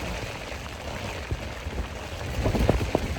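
Steady rain falls outdoors at an adventure park in Texas, a continuous broadband hiss with scattered louder drops and patters thickening toward the end; no voices.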